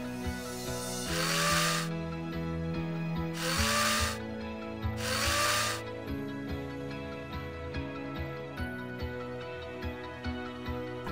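Power tool fastening composite deck boards to joists, with three loud bursts of whirring driving near the start, then quieter mechanical tool noise over background music.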